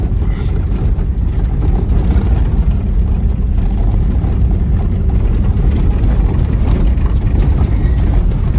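An old Subaru Brat farm car engine runs continuously while driving in second gear, a loud, steady low rumble with a slight uneven stutter and no talking.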